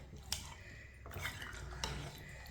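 A spoon scrapes and clinks against a metal pot while chicken is mixed, with a few sharp metallic taps over soft, steady stirring, close and fairly quiet.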